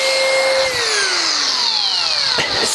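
A Makita 40V HP001G cordless drill runs at a steady high whine, then its pitch drops as the motor slows under load, with a sharp click near the end.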